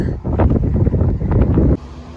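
Strong wind gusts buffet the microphone in open Swiss countryside, a loud continuous rumbling roar that cuts off abruptly near the end, leaving a quieter hiss.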